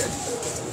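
A pigeon cooing close by, one short soft coo over a faint background hum.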